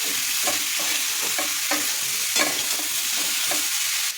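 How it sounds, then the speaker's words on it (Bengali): Potato and eggplant sauté with spices in hot oil, giving a steady loud sizzle broken by regular scrapes and knocks of a spatula stirring the pan, with no voices. "মশলার সাথে আলু বেগুনটাকে কষিয়ে নেবো"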